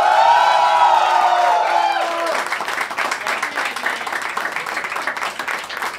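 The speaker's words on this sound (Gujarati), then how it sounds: "પ્લીઝ વેલકમ મનન દેસાઈ માટે તાળીઓ" An audience at a Gujarati stand-up comedy show breaks into loud, sustained applause with scattered whoops and cheers, welcoming comedian Manan Desai to the stage; a voice carries over the start before the clapping fills the room.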